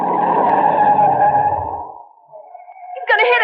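Car braking hard and skidding in an old-time radio crime drama, a loud, drawn-out tire screech that fades over about two seconds, then a brief sharp burst as a voice cuts in.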